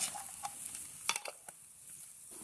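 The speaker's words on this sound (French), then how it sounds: "Je vais commencer par brasser la marinade pour dissoudre un peu les affaires." A marinade for pickled onions is stirred in a bowl, giving soft, close liquid swishes and light clinks in an irregular rhythm, quiet and with no talk.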